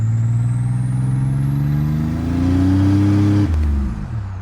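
A loud 1987 Buick Grand National engine pulls hard under acceleration, a rising throaty drone climbing steadily in pitch before abruptly dropping off near the end, close and dominant.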